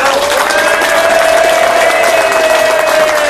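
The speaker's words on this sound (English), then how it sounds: "Round of applause for Vince's side." A shipboard audience on a Fred Olsen world cruise applauds and cheers during a cooking demonstration, with dense, loud clapping and whoops that run steadily throughout and a whistle-like tone riding over the crowd.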